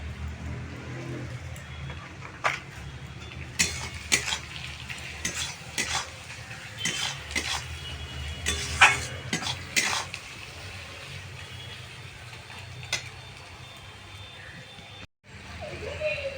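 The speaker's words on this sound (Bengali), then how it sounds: "একটু নেড়ে নেব আমি।" Chicken with Kashmiri chilli powder, salt and ground cumin is stirred in a frying pan over steady sizzling, with repeated scraping strokes and light clinks of the utensil against the pan throughout.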